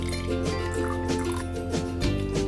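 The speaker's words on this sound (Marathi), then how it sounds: "थोडं ह्यामध्ये पाणी घालायचं आहे" Water is poured into yogurt spiced with cumin powder, black pepper and rock salt for lassi, giving a close, soft liquid trickle with small drips and gurgles over a low hum.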